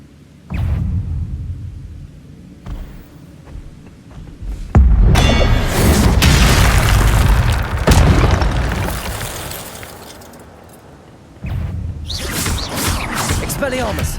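Spell effects from Hogwarts Legacy, with Expelliarmus casting among them: repeated loud booms, thuds and bursts, with sustained blasts and crackling bursts, as someone talks over the game.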